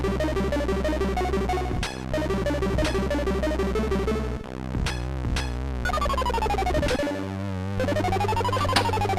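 Homebrew Sega Genesis video game music in Commodore 64 simulation mode: dense, buzzy SID-style chiptune with rapid arpeggiated tones, warbling pitch sweeps and a steady droning bass, loud and continuous throughout.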